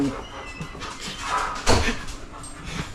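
Dogs whimpering and snuffling up close, with a brief louder yelp or bark near the middle amid some handling noise.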